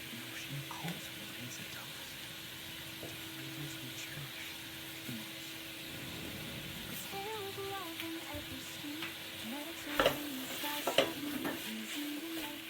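Garlic cooking over low heat in a pot for a Mediterranean seafood stew, a faint steady sizzle with occasional stirring clinks and scrapes, a couple of sharper knocks near the end.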